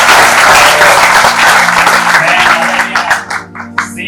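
Seminar audience at an orthopedics talk breaks into loud applause, dense clapping that thins out into scattered claps over about four seconds.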